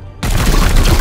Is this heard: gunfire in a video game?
yes